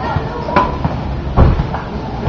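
A door shut twice on an amateur film set, producing a couple of short, dull knocks close by amid background voices and room noise.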